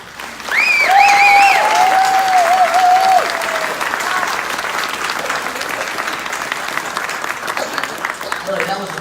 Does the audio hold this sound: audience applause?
yes